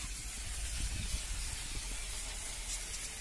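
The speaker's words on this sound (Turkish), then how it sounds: "Önce balta sprey ile kirleri yumuşatalım." Engine cleaner spray hisses steadily onto a dirty Toyota Corolla engine, a continuous close, fairly quiet airy spray sound with a faint low rumble beneath it.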